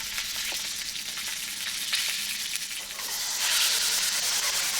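New York strip steak fat searing in a hot pan with butter, garlic and thyme: a steady, close sizzle that swells louder toward the end, with no talking.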